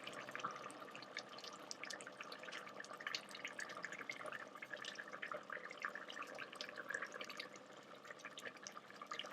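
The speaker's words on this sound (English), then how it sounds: "I'm going to begin dropping them into the broth." Dumplings dropped one after another into simmering chicken broth in a home kitchen pot, giving soft, irregular drips and plops over a steady bubbling wash, with no voices.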